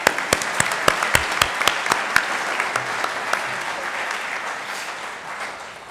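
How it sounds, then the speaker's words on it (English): Audience at a career center awards night bursts into applause, a burst of sharp claps that blends into a sustained clapping roar and gradually tapers off. "yes, another round of applause"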